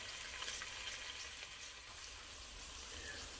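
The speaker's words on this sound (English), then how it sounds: "I'm going to let these pork ribs brown for about 2 minutes on each side" Pork ribs browning in olive oil in a pan over very low heat give a continuous, even sizzle and crackle, close and steady throughout with no talking.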